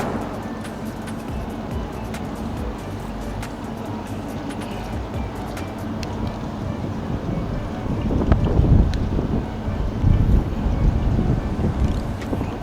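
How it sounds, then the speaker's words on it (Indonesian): Strong outdoor wind roars steadily against the microphone in an open-air kitchen setting, a dense, rumbling buffet that swells louder in gusts toward the end, with no voices. "angin cukup besar"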